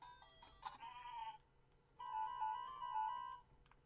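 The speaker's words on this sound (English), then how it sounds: "And then you hear a lamb or goat." Electronic bleat of a lamb or goat from the Tetris Tiny Arcade miniature game, two bright beeping tonal bursts with a short gap between them, heard alone.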